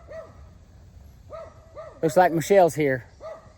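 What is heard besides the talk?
dogs barking outdoors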